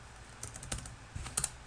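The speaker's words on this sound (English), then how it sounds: "Notice that when I'm typing" Light taps on a computer keyboard as someone types code, a few scattered keystrokes and a quick double tap, close but soft against a steady background hiss.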